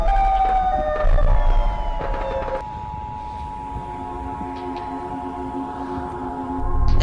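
A Siren Head creature's siren wail, a loud sustained tonal howl with steady drawn-out pitches that holds for several seconds over a rumbling background, swelling again at the end.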